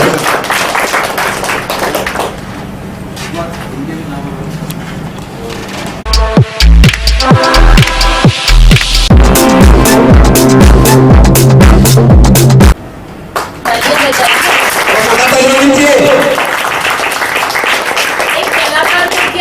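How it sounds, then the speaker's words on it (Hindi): An audience breaks into loud applause at a film shooting event in Gautam Buddh Nagar, with a burst of clapping in the middle and speech before and after. "एक बार जोरदार ताली होनी चाहिए सबके लिए।"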